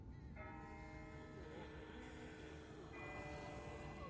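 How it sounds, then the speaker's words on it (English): A distant bell tolls in The Walking Dead video game, its sustained ringing tones repeating faintly over a steady low background rumble, with a fresh strike partway through. "That's not the same bell as before. This one's further off."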